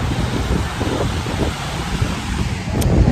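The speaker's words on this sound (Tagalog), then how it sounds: "ganda talaga ng beach ang sarap na sariwang hangin" Steady sea breeze buffets the microphone with a broad rushing roar, waves on a beach blending into one continuous outdoor noise.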